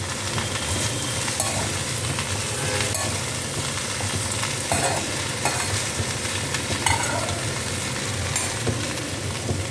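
Food sautés in a pan on a home stove as it is stirred. A continuous, fairly loud sizzle runs under scattered scraping strokes of the spatula, with no talk.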